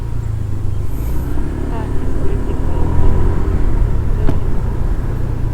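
Steady road-traffic rumble heard from a moving Honda Click V4 Smart Edition scooter on the way to Kaybiang Tunnel, a loud low engine and road drone that continues without a break.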